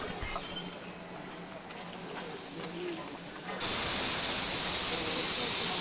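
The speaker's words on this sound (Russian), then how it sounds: "А это идет электричка." An electric commuter train moves through Sverdlovsk railway station in Yekaterinburg, its sound swelling suddenly into a loud, steady hissing rush after a quieter stretch of station ambience.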